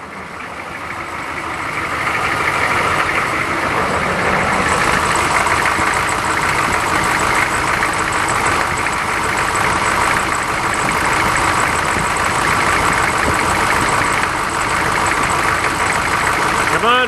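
A homemade floor sander's engine runs steadily at fast idle, a loud, constant mechanical drone that builds in the first couple of seconds and then holds without easing down.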